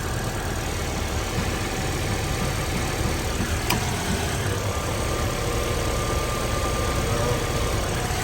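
A car's air conditioning compressor and condenser fans run together as a steady, even mechanical hum and whir with a low engine-like rumble, unbroken and close throughout.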